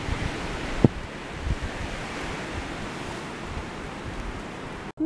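Wind picks up outdoors at a winter bivouac site, a soft continuous rushing gust over the microphone with a brief thump near the start, fairly faint and without speech.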